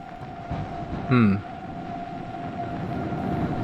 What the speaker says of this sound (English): I've been riding a certain train for a while, but something seems off.